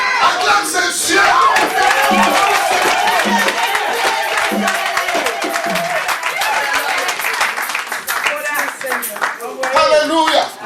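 Church congregation clapping rhythmically and calling out in praise, a dense, lively stretch of hand claps under shouts and singing voices throughout.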